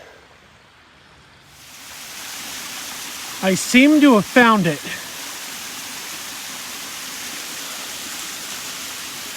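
A steady rushing roar of falling water builds and fills the scene, with someone speaking briefly over it.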